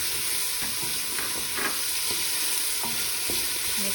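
Celery fries in olive oil with a continuous close sizzle, broken by regular scraping strokes of a utensil stirring the pan.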